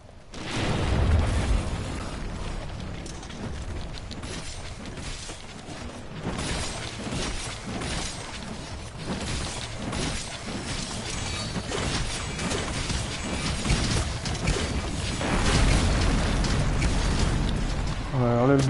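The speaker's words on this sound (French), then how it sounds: "il déclenche des explosions dans cette zone" A monster in Monster Hunter: World setting off explosions, a dense continuous roar of booms, crackling bursts and impact noise with game effects layered throughout, loud and unbroken, swelling louder toward the end.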